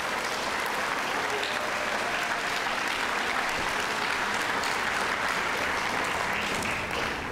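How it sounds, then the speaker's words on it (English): Audience applause at a North Carolina junior science fair awards ceremony, a continuous, even wash of clapping hands lasting over seven seconds without any speech. "So please give your teachers and your mentors a round of applause."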